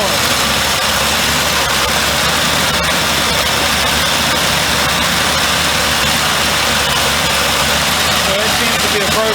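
An engine fitted with a newly installed Motorcraft 2100 carburetor idles with a loud, constant rumble and vibration, close to the microphone, holding steady throughout.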